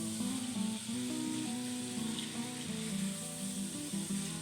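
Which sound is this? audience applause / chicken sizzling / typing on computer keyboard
chicken sizzling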